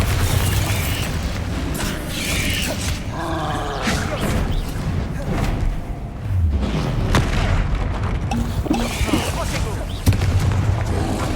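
Spell combat in Hogwarts Legacy, with the Bombarda explosion spell among rapid casts: repeated booming blasts and rumbling bursts over a steady din of battle effects, loud and continuous throughout.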